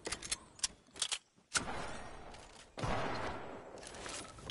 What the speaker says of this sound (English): he actually hit me with that gun